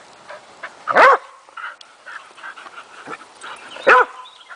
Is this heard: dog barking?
yes